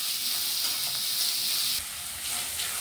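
Two finely chopped onions sauté in three tablespoons of hot oil in a kadhai, a constant close sizzle that softens slightly partway through as they are stirred.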